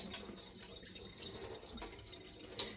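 Cloudy, starchy rinse water runs and splashes as it drains out of washed rice in a kitchen, a continuous close trickle with a few small drips and clinks.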